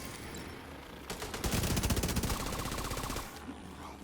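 Rapid automatic gunfire from The Division 2, a dense burst of shots lasting about two seconds that builds and fades, fairly quiet overall with no talk.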